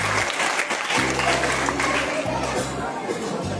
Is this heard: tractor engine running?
no